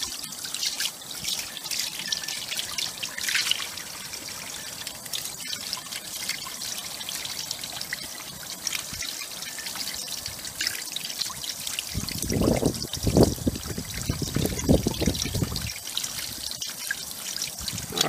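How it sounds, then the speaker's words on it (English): Water runs over and rinses a Majorette Citroen model car being restored, a steady trickle and splash near a sink drain, with a louder gush of pouring in the final seconds. "Give her a rinse."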